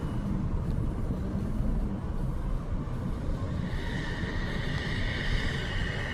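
A UPS Boeing 747 cargo plane passes low and slow near a highway, its deep engine rumble steady and broad, with a higher tonal whine building in the last seconds, heard without talk.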